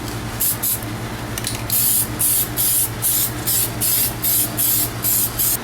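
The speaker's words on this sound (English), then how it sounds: "what I'm going to do is just throw 1 or 2 coats of gloss on it just to finish up the wheels" Gloss Plasti Dip is sprayed onto car wheels from an aerosol can in a steady run of about eight loud, evenly spaced hissing bursts over a constant low background hum.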